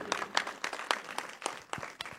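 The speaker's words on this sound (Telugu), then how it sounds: "కొంచెం మీరందరూ గట్టిగా చప్పట్లు కొడితే" A small audience at a Christmas church gathering claps in separate, fairly quiet bursts. The claps are uneven and spread out over a couple of seconds.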